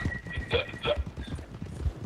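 Horse hooves clip-clop in a steady rhythm in Red Dead Redemption 2 Online, close by, with a couple of brighter tonal bursts over the hoofbeats.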